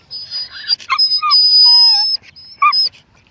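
A pet dog whines and yips nearby in high, thin cries: several short squeals, then a longer drawn-out whine in the middle and a final brief yelp.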